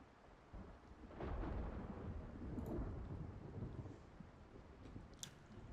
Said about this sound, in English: Because it's been raining for like a stupidly long amount of time.